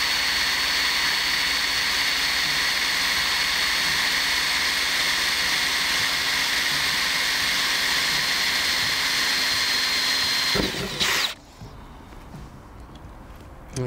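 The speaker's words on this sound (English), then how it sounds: "And carefully drill that out." A drill boring a hole for the number plate on a Rover P6, a steady, loud, continuous whine that runs for about eleven seconds, then stops abruptly and leaves quieter room noise.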